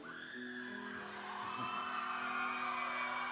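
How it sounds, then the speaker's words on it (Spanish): Audience of boys and girls at a live concert shouting together, a sustained loud crowd yell that swells and holds across the whole moment, with no clear break. "A ver cómo gritan aquí los chicos y las chicas."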